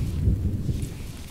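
A thunderstorm in the survival video game The Infected, a low continuous rumble of thunder with rain underneath, fairly faint and with no talking.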